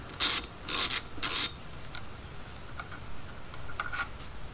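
A ratchet loosens the handlebar clamp bolts on a motorcycle, giving three loud, close bursts of rapid clicking in the first second and a half, followed by faint ticks and handling noises.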